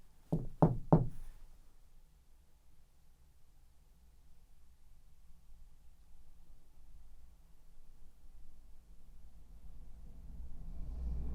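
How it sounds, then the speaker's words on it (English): Three quick knocks on a hard surface in an abandoned house at the start, followed by a long low rumble of a large truck passing that slowly grows louder. "Could you knock, maybe?"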